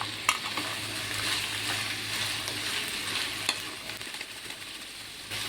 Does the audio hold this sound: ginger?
yes